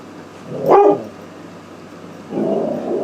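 A dog inside an apartment lets out one loud, close bark as someone comes home, followed by a quieter low rumble of movement.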